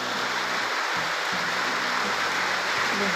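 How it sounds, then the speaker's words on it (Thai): Rain falling outdoors after a night-long downpour in rural rice-farming country, a steady broadband hiss running throughout, with a faint low hum in the background and no talking. "ฝนตกตั้งแต่เมื่อคืนนี้ จนฮอดตอนนี้เป็นเวลา9 โมง 10 โมงก็ยังบ่เศร้า"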